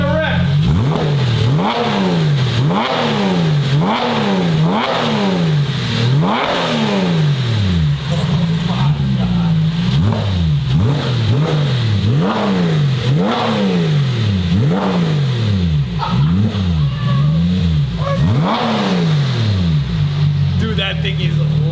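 A Porsche 997 Carrera 4S engine revving hard again and again through a Fabspeed full exhaust, the loud exhaust rising and dropping in a steady repeating pattern, with voices underneath.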